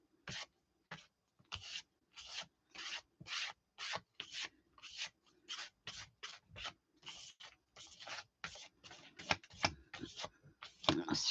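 Rhythmic rasping strokes of blue paint being scraped, short scratchy swipes repeating in a brisk, uneven rhythm that speeds up toward the end, close and clear with no voices.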